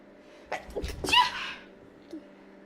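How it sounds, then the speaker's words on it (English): A single sharp sneeze with a quick breathy build-up, close and loud, followed by a faint sniff. "So I need to sneeze"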